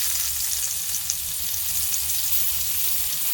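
Trimmed pineapple pieces searing in a hot pan beside reverse-seared ribeye steaks, with a loud, continuous close sizzle and crackle that holds steady throughout.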